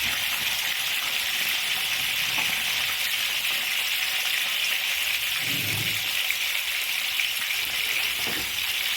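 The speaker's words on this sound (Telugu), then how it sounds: "చక్కగా అన్నీ ఇలా ఆయిల్లో వేసేసుకుందాం." Stuffed brinjals with onion masala frying in oil give a steady, close hiss and sizzle with a few faint low bumps, no voices present.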